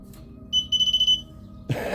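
Cheap pinpointer metal detector giving a short run of about seven rapid high-pitched electronic beeps, close and clear over a quiet background, followed by a brief rustle of handling.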